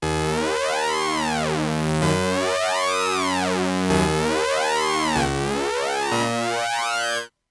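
Rob Papen Explorer-10 synth plugin patch plays a bright, harmonically rich tone whose overtones sweep up and down in repeating arcs, giving a sync-like phasing shimmer across several sustained notes, alone and fairly quiet.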